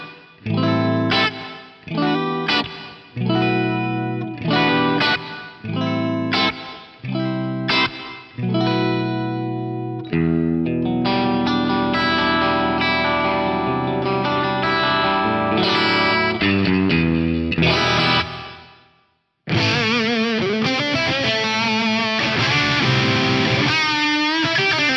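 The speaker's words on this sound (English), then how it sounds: "This 15 IPS plate thing is really, really nice if you kind of like those darker old school style plates." Distorted electric guitar runs through the 15 IPS plate reverb preset on a Lexicon PCM81 dual FX card, dark and old-school, first as separate chopped chords with trailing reverb, then as sustained washing chords that cut briefly before returning loud.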